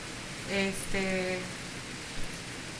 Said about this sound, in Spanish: aquí hay mucha lluvia ahorita